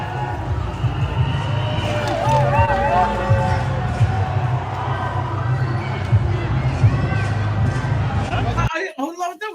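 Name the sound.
crowd cheering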